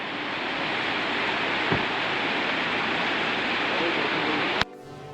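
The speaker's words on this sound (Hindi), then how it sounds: "मेरी नज़र पड़ी इस पहाड़ के अंदर से निकलते झरने में। पहाड़ के बिल्कुल बीच से ये पानी निकल रहा है।" A waterfall pours out of the middle of a mountainside near Kaza in Spiti, giving a steady, loud, broad rushing roar that continues almost unchanged before cutting off abruptly near the end.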